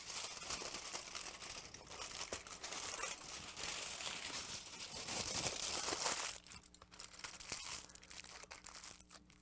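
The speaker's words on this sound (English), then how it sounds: "So I'm taking that, crinkling it up." Material crinkled up by hand to bulk out a clay dolphin armature, a dense continuous crackling and rustling close up that runs for several seconds, then drops to softer, sparser crinkles.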